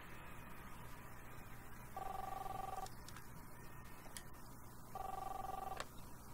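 A telephone ringing in the video game Captain Spirit, two electronic ring bursts of about a second each, three seconds apart, over a steady hum of background noise.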